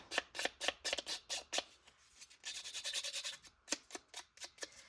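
Scissors snip through linen fabric in quick repeated crunching cuts, a pause, then a longer rasping cut and a few more snips, close and fairly quiet.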